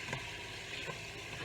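Pork steak sizzles as it browns in a pan while making caldo, a steady, quiet frying hiss with soft crackles throughout.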